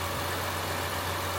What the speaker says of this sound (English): But yeah, idling smooth.